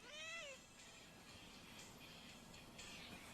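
Cat meowing once, a short, faint, rising cry, followed by quiet background rustle.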